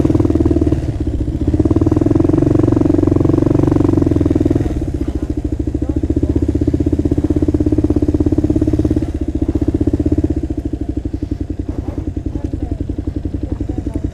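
A Kawasaki KLR650 single-cylinder motorcycle engine runs close by at a steady idle, with a loud, even low rumble and a mechanical clatter. The level dips briefly a few times, and some faint talk sits in the background.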